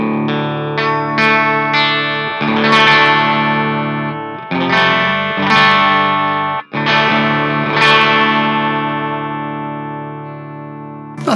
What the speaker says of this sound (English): here's my regular clean guitar sound.